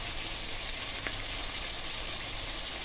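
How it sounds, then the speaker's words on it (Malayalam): Ginger and garlic, with a little salt, sauté in a pan with a continuous bright sizzle and hiss, close and steady for a few seconds with no talking. "ഇഞ്ചി, വെളുത്തുള്ളി എല്ലാം കൂടെ ഒരുമിച്ചാണ് ഞാനിടുന്നത്. ഒരുമിച്ചിട്ടിട്ട് ഒന്ന് വഴറ്റിയെടുക്കാം."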